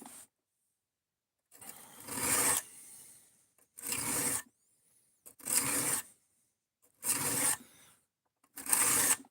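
A cheap Amazon kitchen knife is drawn over a sharpening stone in five separate raspy strokes, each lasting about a second, with short silent pauses between them.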